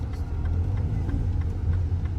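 A car engine runs at a steady low rumble, close and continuous, with no talking over it.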